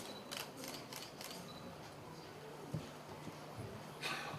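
Camera shutters click in several quick bursts, some in short rapid runs, during a live cranberry recipe demonstration, faint against the steady murmur of a room.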